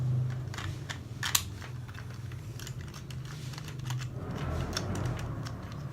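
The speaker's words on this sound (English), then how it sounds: "and then you screw it in." A camera being screwed onto a J-bracket chest mount: a run of quick, light clicks and scratchy plastic ticks close by, with a louder snap partway through over a low steady background hum.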